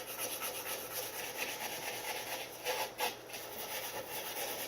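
Brillo pad scrubbed over painted furniture to distress the finish, a soft, fairly faint continuous scratchy rubbing with a couple of slightly louder strokes near the end.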